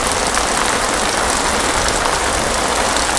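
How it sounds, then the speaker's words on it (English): Light rain falls in a steady, even hiss, with a constant dense patter close to the microphone beside a pond and no pauses or voices. "Just a touch of rain."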